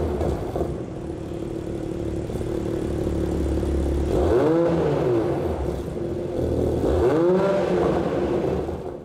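A Toyota Supra engine with a Borla exhaust idles with a low rumble, then revs up twice in quick swells through the exhaust, rising and falling each time.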